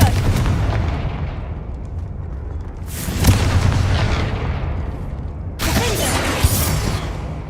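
Confringo, a blasting spell in Hogwarts Legacy, goes off in two loud bursts, each a sharp crack followed by a long rumbling roar that fades, layered over continuous game background noise.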